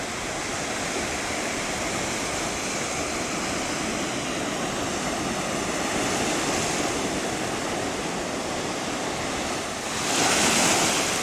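Ocean waves washing onto the beach at Ocean City, Maryland, a continuous broad roar of surf with wind, swelling slightly near the end, no voices.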